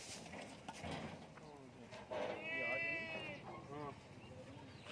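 A goat at a goat farm bleats in a wavering, drawn-out cry, with a shorter bleat after it, heard through a voice and background farm noise.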